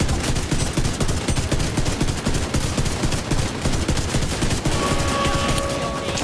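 Sustained rapid automatic gunfire in the shooter The Division 2 during a raid boss fight, dense overlapping bursts rattling continuously and loud, with a faint electronic tone near the end.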